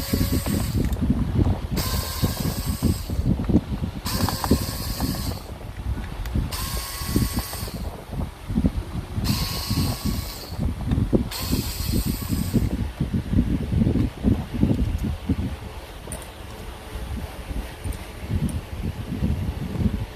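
Dismantling the speedometer meter of a TVS 4V motorcycle, with continuous clicking, ratcheting and scraping of tools and parts close by, plus several brief high squeaks early on, no talk.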